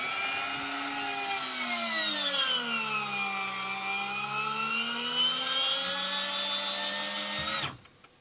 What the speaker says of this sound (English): one, two, three, gear coming up.